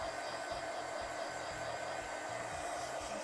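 A hair dryer blows a steady, loud whir over artwork drawn with Caran d'Ache Pablo pencils, running alone without a break.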